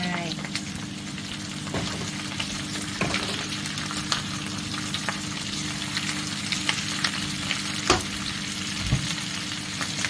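Garlic and chili stir-fried in a pan for a pork belly and chili dish give off a steady, close sizzle, with scattered clicks and scrapes of stirring throughout.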